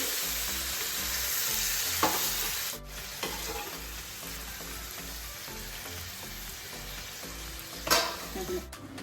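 Chicken pieces for korma fry on a medium flame in a pan, a continuous close sizzle with stirring scrapes and a few sharper clatters, no voices.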